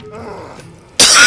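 A single sharp, loud cough bursts out near the end, close to the microphone, after a short stretch of quiet.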